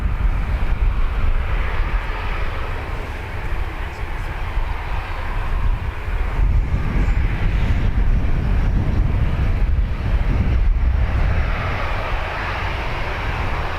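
Ryanair jet departing Dublin Airport for Gatwick, a continuous loud engine roar with rumbling low end and wind buffeting, sustained throughout without fading.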